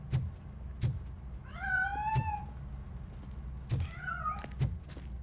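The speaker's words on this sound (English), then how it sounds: "That cat must be hiding inside." A cat meows in RoboCop: Rogue City, two drawn-out meows among a few sharp knocks and thumps, fairly quiet and with no talking.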